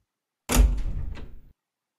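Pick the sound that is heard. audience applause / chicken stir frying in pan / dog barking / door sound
door sound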